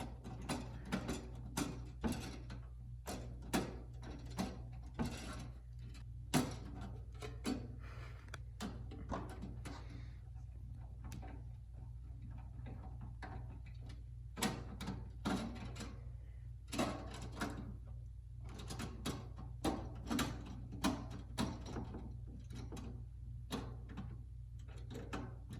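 Screws being tightened by hand while installing an Engineered Fluids immersion cooling kit on an S19J Pro, with repeated clicking and ratcheting strokes over a steady low hum.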